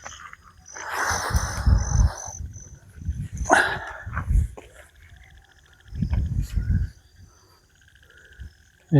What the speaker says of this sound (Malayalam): കുറേ തവളകളും ചീവീട്